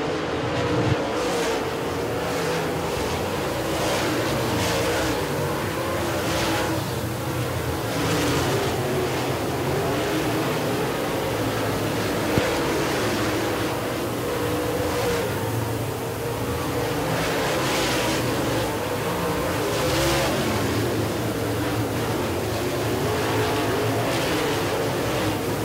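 Dirt track race cars roar around Tri County Racetrack during the Tar Heel 50, a steady distant drone of engines swelling and fading as the field passes. Heavy wind rush partly masks them.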